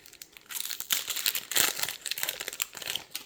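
Crinkling and tearing of a foil Ikoria Magic trading card collector booster pack being opened, a dense run of close crisp rustles and crackles lasting a few seconds with no speech.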